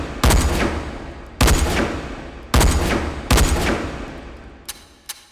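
A Russian rifle in the VR shooting game H3VR fires on semi-auto: four loud, sharp single shots spaced about a second apart, each with a ringing decay, then two faint clicks.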